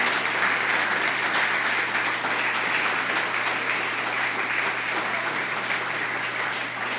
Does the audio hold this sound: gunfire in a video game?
no